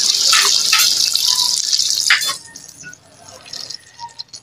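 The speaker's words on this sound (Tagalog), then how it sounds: "Lagyan ng tubig." Water gushes steadily into a pan for adobong gata, a loud close pour for about two seconds that then drops to softer trickles and splashes.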